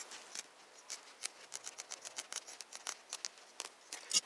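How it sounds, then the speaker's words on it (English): Scissors snipping through upholstery material for a mini chopper back rest, a quick irregular series of soft crisp cuts, close and quiet with no talk. "I'm using a pair of scissors."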